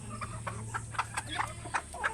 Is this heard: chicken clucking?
yes